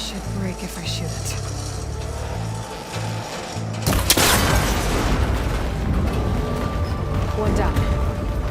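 A cable connector shot in the video game Horizon Forbidden West breaks with a sharp crack and burst, followed by rattling, mechanical debris and rumble, after a stretch of quieter pulsing game ambience.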